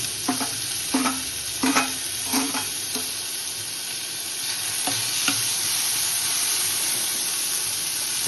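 Tomato sautéing in a pan for egg curry, with a constant frying sizzle and hiss, punctuated early by several knocks and scrapes of stirring, then settling into a steady sizzle alone.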